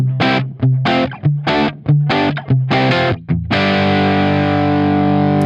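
Jangly strummed chords on an electric guitar through a Dumble-style amp ring out in a quick rhythmic run, then a final chord is left to sustain and slowly fade, loud and close with no one speaking.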